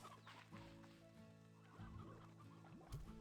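Chickens in the video game Slime Rancher 2 cluck steadily in a low, continuous chorus, close by, over a faint background hum.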